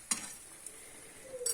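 Fish and carrots fry in a hot pan on a home stove, a soft steady sizzle broken by a couple of brief metallic clinks of a spoon or fork against the pan.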